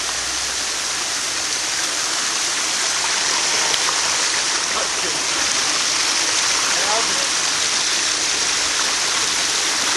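Steady broadband rush of falling water, close and continuous, with faint voices underneath at times.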